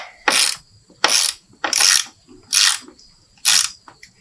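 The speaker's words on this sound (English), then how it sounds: "And we'll go ahead and wrench these down." A wrench ratchets down plastic-mounted radiator bolts on a 2009 Kia Spectra, five sharp clicking bursts spaced about a second apart, close and crisp against a quiet background.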